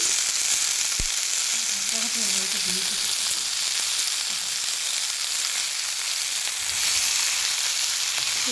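Pointed gourd cooking with potatoes and spices in a pan, giving a steady, hissing sizzle throughout, with a clink near the start and faint background voices.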